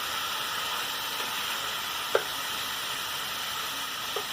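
Beef burrito filling cooking in a pan, giving a soft, continuous sizzle and hiss with a couple of faint clicks.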